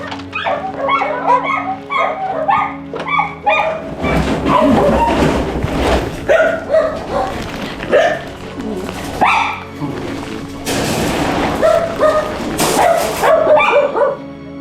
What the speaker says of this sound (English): the team begins to bring out the dogs